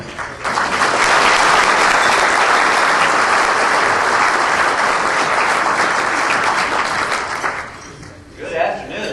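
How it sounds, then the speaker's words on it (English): A crowd at a Missouri transportation stakeholders' gathering gives a loud, sustained round of applause for a U.S. congressman, the dense clapping holding steady for several seconds before fading, with a voice briefly emerging at the end. "how about a warm round of applause for Russ Carnahan"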